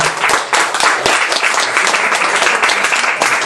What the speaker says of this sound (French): On applaudit bien fort Jean-Marie Le Sage.